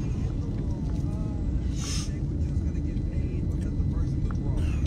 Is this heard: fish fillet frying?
no